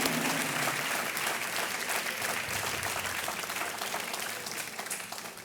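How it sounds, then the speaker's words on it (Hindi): A studio audience at a televised quiz show claps steadily, a dense, sustained round of applause filling the room with no voices over it. "तालियां बजती रहें"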